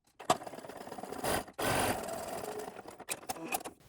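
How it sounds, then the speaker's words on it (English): A sewing machine runs a stretch stitch across the short edge of a folded T-shirt band, heard as close, fast mechanical whirring bursts separated by brief pauses and handling clicks, with no talk. "you want to sew across the short edge with a stretch stitch"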